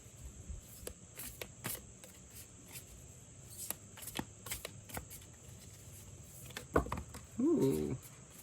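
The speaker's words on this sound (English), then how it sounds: "One more shuffle" Soft riffling and papery flicks of tarot cards being shuffled close by, in quiet bursts, with a brief low voice near the end.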